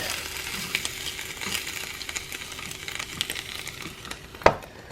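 Bologna slice frying on a Dash mini griddle, a soft steady sizzle with a few faint ticks and one sharp clack near the end, no talking.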